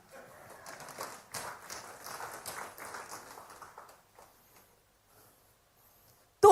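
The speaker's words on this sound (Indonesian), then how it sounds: "Tepuk tangan dulu." A church congregation claps hands during a sermon, a moderate patter of many hands lasting about four seconds and then stopping into near silence.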